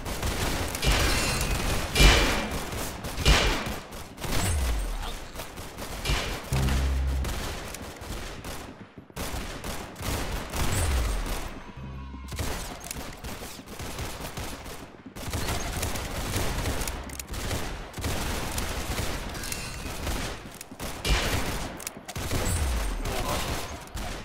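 In a shooting video game, volleys of gunfire and fast rattling shots come in repeated bursts, loud and close, with short gaps between them and little talk.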